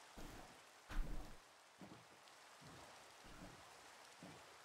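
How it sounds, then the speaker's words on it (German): Rain falls in a Minecraft hardcore world during a thunderstorm, a faint steady patter with soft rumbling swells recurring at intervals. "Jetzt, wo es regnet."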